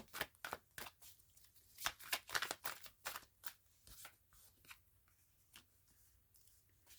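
Tarot cards being shuffled and handled, a series of quick crisp riffling snaps and soft shuffles in irregular bursts, close and moderately quiet, with no talk over them.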